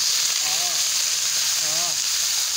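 Food frying in a pan sizzles with a constant bright hiss, while a voice speaks briefly twice over it.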